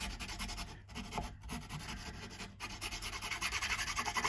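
Sandpaper rubbing over a Strat-style guitar part in a steady back-and-forth scrubbing rhythm, close and fairly quiet, with brief pauses between strokes and no talking.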